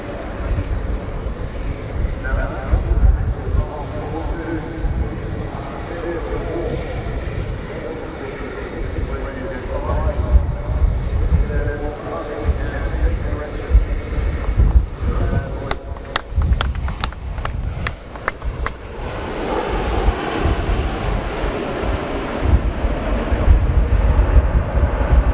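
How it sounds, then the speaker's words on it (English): Airbus A400M turboprop military transport in a flying display at the Farnborough Air Show, a far, rumbling propeller drone that rises and falls beneath a commentator talking, with a brief burst of sharp clicks midway. "From Airbus Defence and Space, this aircraft is making its third public display at Farnborough"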